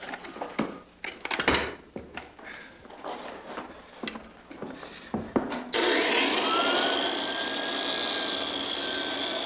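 A floor sander with fine grit works a wood floor, first with scattered scraping and knocking sounds, then starting up into a loud, steady whirring drone that continues to the end.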